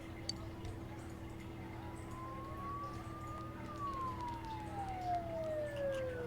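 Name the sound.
sirens in the video game Persona 4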